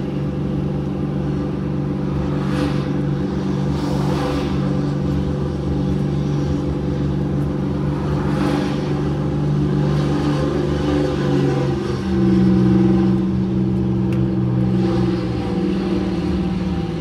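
Engine of a Flxible bus running steadily and close, a sustained low rumble that rises in pitch and gains a little power near the end as the revs climb, with no talk over it.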